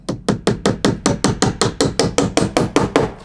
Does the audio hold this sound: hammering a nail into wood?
yes